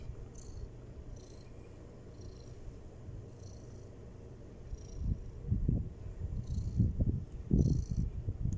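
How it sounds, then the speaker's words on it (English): A domestic cat purring up close outdoors in a garden, faint and steady at first, then growing louder with low rumbling bursts in the second half; no talking. "See our cat is coming from this cat."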